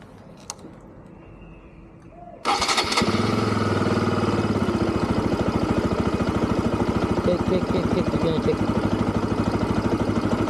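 A Bajaj Pulsar RS200 motorcycle engine, run during a coolant change, starts after a quiet moment and settles into a loud, steady, close idle with a fast rhythmic putter that continues to the end.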